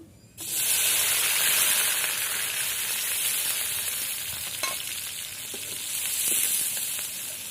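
Onion and garlic frying together in a hot pan, giving a loud, steady sizzle that starts abruptly and holds throughout, with faint stirring scrapes and no talking.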